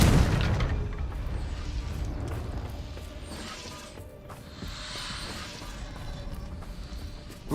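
A Confringo blasting spell explodes in Hogwarts Legacy with a loud, booming burst at the start, followed by a long rumbling, crackling tail and clattering mechanical noises.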